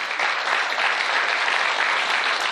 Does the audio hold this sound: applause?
yes